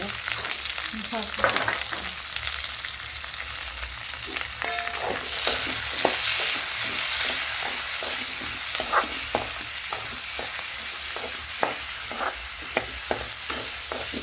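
Onions for paneer do pyaza sauté in a hot pan with a loud, sustained sizzle, punctuated by regular scraping and tapping as a spatula keeps turning them; no one speaks.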